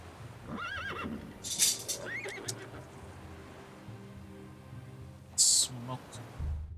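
A horse neighs in the video game Battle Realms: Zen Edition, giving a couple of rising whinnies early on. Sharp bursts of game effects stand out over a low, steady in-game background.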